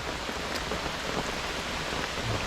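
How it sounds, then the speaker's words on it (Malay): Heavy rain pouring down outdoors in a steady dense hiss of drops hitting surfaces, continuous and fairly even in level, with no voices. "Hujan geng, hujan. Lebat tu."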